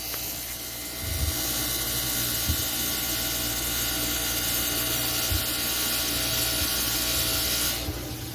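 A rough-grit Scotch-Brite wheel abrades an aluminum ATV shock, a steady loud whirring grind running continuously for several seconds with a few brief knocks, then cutting off near the end.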